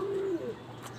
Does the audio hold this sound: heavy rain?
no